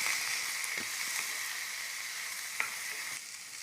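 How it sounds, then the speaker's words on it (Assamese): Onion and tomato frying in hot oil with garlic in a pan, a loud, steady sizzle close up with a few faint stirring scrapes and no talking. "এতিয়া ইয়াতে পিঁয়াজখিনি দি দিওঁ। বিলাহীখিনি দি দিলোঁ।"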